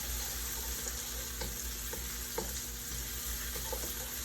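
Curry fried rice with vegetables and pineapple sizzling in a hot pan, a dense continuous close hiss and crackle with occasional light scrapes as it is spread and stirred.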